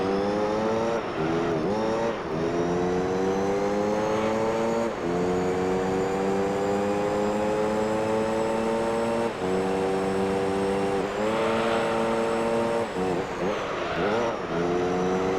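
A race car engine in Gran Turismo 3 on the cobblestoned Rome street circuit, revving hard and climbing through gears with repeated upshifts, sustained and loud, with brief tire squeals.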